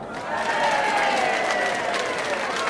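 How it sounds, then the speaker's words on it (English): An audience claps on cue at a live wrestling-style event: a dense, steady wash of applause swells in after a brief pause and holds loud and continuous, with faint crowd voices mixed in. "now clap"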